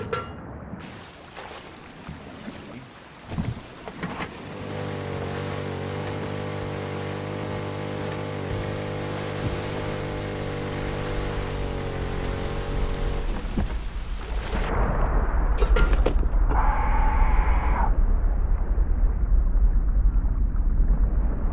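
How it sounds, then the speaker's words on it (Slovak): A storm and rough sea in the video game Rust: a steady, dense roar of rain and wind with low rumbling underneath, which swells louder near the end and plays alone without talk. "Škoda, že len bola búrka a more bolo divoké."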